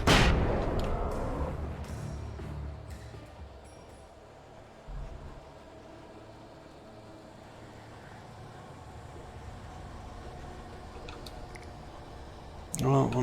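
A flashbang detonates in the video game Alan Wake, a loud blast at the start that fades over a couple of seconds into low rumbling game ambience, with another sharp burst right at the end.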